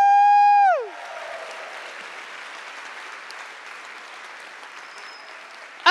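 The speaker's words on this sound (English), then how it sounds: "Applaud yourselves." At an Ignite Seattle talk night, a loud sustained electronic tone slides downward and cuts off, then a roomful of audience members keeps up steady, moderately quiet applause to the end.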